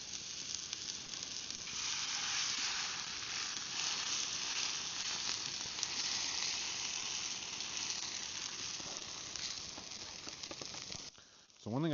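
Scrambled eggs sizzle and fry in a pan over a campfire pit at a campsite, a steady, close, hissing crackle that runs nearly unbroken before tapering off near the end.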